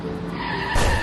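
A car skids with a sharp tire squeal before an impact in a dramatized scene, the screech swelling loudly and close, then a dense burst of noise near the end as it strikes someone.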